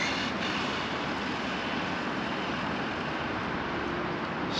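Losi R8 RC car running on a 6S battery, a loud, continuous broadband roar of motor and rushing wind, steady and close throughout with no talk.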